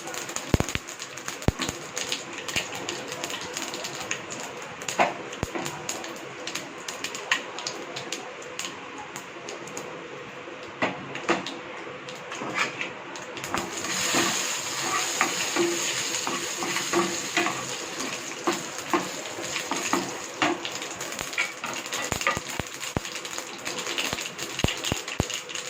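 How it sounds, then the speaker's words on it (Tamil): Dense crackling and popping of mustard seeds spluttering in hot oil for tempering, steady and close, with irregular sharp pops throughout. "கடுகு வெடிக்கட்டும்."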